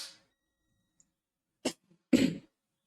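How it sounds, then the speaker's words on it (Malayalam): A physics teacher coughs in a quiet classroom: a brief faint throat sound at the start, then two separate coughs, the second harsher and longer, with no talking. "എനിക്ക് നല്ല ചുമ വരുന്നുണ്ട്"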